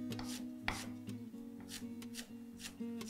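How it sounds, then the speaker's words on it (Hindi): A sharp knife slicing a delicate ingredient for sweet corn soup, drawn back and forth in a run of soft, close rasping strokes with a few firmer cuts, over a steady background hum. "नाइफ को ऐसे आगे पीछे चलाएं जैसे मैं चला रहा हूं"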